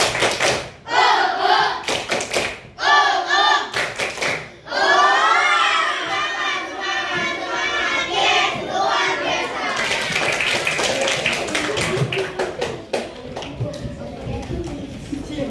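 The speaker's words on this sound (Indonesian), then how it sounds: "Tepuk semangat." Fifth-grade schoolchildren in a classroom perform a rhythmic spirit clapping chant, bursts of group clapping alternating with loud shouted chanting voices, close and lively.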